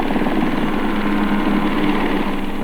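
A helicopter clatters loudly and steadily close overhead above a rock, its low rotor thump and high engine whine continuous throughout with no voices.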